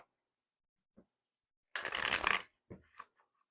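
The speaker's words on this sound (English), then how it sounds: "this is the last shuffle" Tarot cards being shuffled by hand, one brisk riffling burst lasting about half a second, followed by a few light taps and card handling sounds in a quiet room.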